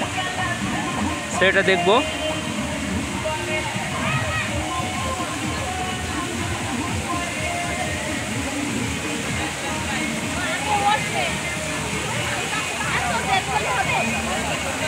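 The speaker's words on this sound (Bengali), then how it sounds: "এই যে ঝর্ণা" A park waterfall rushes and splashes steadily beside a pond, a continuous broad wash of water throughout, with people talking over it.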